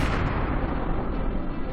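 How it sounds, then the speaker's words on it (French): A supernova explosion sound effect: a sustained, loud, deep roaring blast that fills the whole clip with dense rumble and no pauses. "Une supernova est une étoile qui meurt dans une explosion massive."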